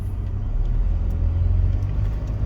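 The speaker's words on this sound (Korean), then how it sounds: "원격으로 시동을 걸어줄 수 있어서 좋아" A car engine idles after a remote start, made by a remote starter with a monthly fee on a farm car parked outdoors in winter; a steady low rumble runs continuously and close throughout, with no voices.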